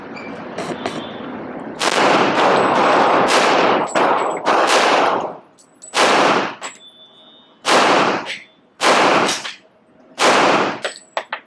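Loud, close pistol shots from a Kimber 1911 at a shooting range, a long rapid string of cracks in the first half followed by five or six separate sharp reports spaced about a second apart with reverberant tails.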